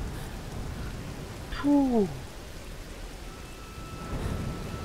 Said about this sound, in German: Oh, sogar Regen auf der Monitorscheibe.